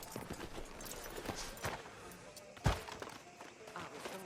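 Horse hooves clop steadily in Red Dead Redemption 2 under voices talking, with one sharper thud partway through.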